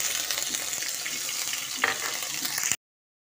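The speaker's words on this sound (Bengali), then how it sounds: "এবার মিহি করে বেটে রাখা আদা ও কাঁচা লঙ্কার পেস্টটা দিয়ে দিচ্ছি।" Ginger and green chilli paste sizzles in a pan over a low flame for a cauliflower roast, a steady bright crackle with a brief louder spatter near the end before cutting off.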